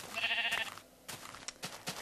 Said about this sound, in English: And here's another red sheep.